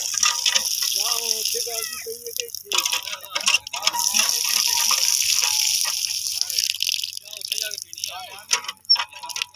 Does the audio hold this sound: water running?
yes